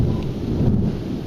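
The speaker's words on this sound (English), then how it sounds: "I know this one's just a thunderstorm with a lot of thunder and lightning." Nearby, a thunderstorm brings a deep, continuous thunder rumble with rain hissing steadily over it. The sound is loud and enveloping, with no voices.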